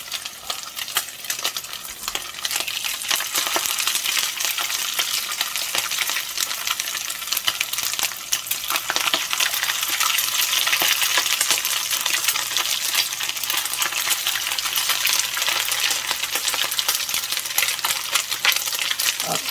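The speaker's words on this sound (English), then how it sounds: "I'm just going to very gently lay those into the fat." Crab cake patties fry in hot fat, a dense continuous crackling sizzle with rapid popping that holds steady and close throughout, with no voices.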